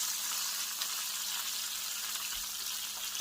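Onions and sliced mushrooms sautéing in a pan, giving a soft, steady sizzle and hiss that stays faint and even throughout with no talking.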